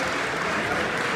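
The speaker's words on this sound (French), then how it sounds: "Applaudissez pour lui," Audience applause at a live comedy evening show in Paris, a steady dense wash of clapping that fills the short moment without a break.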